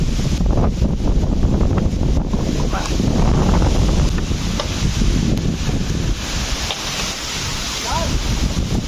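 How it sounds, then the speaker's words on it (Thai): Strong storm wind roars through a deciduous dipterocarp forest, a loud, continuous rushing that swells in gusts and buffets the microphone throughout. "พายุเนี่ยมาแรงมากเลย"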